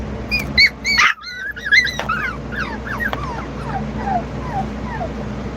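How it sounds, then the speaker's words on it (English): A puppy whines and yips in a string of short, high, rising cries, fairly close and loud, with a brief bark-like burst near the start. "you gotta learn to bark instead of whine over there"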